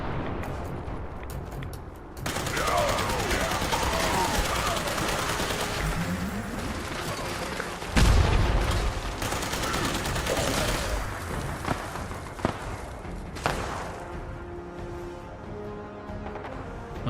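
Sustained video game gunfire from a Fire Starter enemy shooting at a vertibird, dense continuous bursts over a busy game soundscape with a heavy boom near the middle and occasional sharper cracks.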